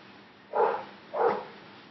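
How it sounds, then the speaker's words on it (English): A neighbour's dog barks twice at a moderate distance, two short separate woofs about half a second apart over a faint steady background, with no one talking. "And the dog next door will not shut up."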